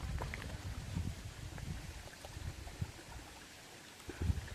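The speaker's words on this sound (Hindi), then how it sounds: "यहाँ पे थोड़ा ये है, नदी है, नयार बोलते हैं ना जिसको" The Nayar river runs as a mountain stream in a soft, steady rush of flowing water with faint splashes, heard from a moderate distance.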